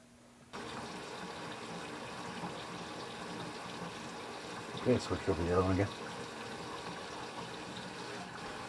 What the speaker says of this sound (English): crank some water on, hot water in each